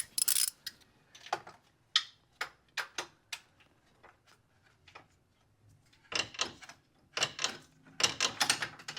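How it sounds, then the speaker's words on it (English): A socket wrench works a bolt on the AC compressor of a 2003-2008 Lexus RX330/350, giving scattered sharp clicks and metallic clacks, some in quick clusters, over a quiet background. "now I should be able to fit a deep socket on the top left bolt and remove that one completely"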